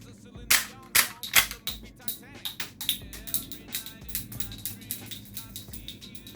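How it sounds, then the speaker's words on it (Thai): A toy Desert Eagle pistol fires a rapid string of sharp, loud cap-like cracks, about a dozen shots in quick succession that thin out until the slide locks back, close up with no talking. "เพราะว่าเรายิงกระสุนหมดสไลด์ค้างด้วย"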